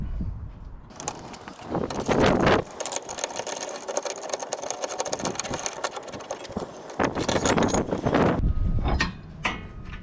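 An inner tie rod comes unscrewed with a removal tool and adapter on a 2002 Toyota Camry, a loud rapid mechanical rattling that runs for several seconds between shorter clanks and handling noises.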